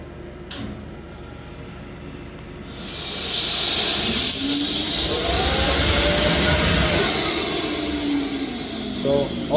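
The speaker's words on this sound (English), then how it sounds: "We're gonna get it ready for the VSR and see how it balances out" A Holset turbocharger spins on a VSR balancing machine, building to a loud airy rush after a few seconds, then holding steady with a high whine that slowly bends up and down.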